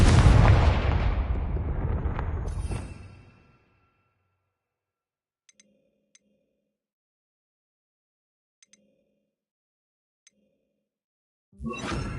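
A Confringo explosion spell from the video game Hogwarts Legacy erupts as a loud, broad burst that rumbles and fades over about three seconds, followed by near silence with a few faint clicks before another loud sound starts at the end.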